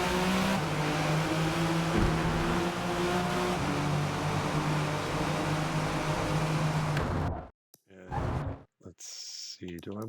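A '98 Porsche GT1 racing at Le Mans in Forza Motorsport gives a steady, loud, droning engine roar held at high revs for about seven seconds, then cuts to brief bursts of quieter revving and gaps.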